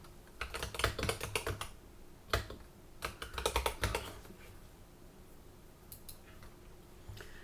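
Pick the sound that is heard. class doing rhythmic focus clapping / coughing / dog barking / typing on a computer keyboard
typing on a computer keyboard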